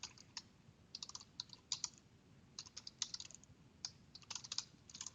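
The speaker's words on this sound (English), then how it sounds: "So I can hit that, and I simply type in my URL." Rapid typing on a computer keyboard while entering a web address, with bursts of close, crisp key clicks in an uneven rhythm and brief pauses between them, no talking.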